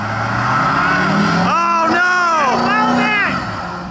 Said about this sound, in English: A little burnout.